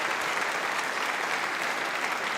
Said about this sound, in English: And you hear the fans applauding.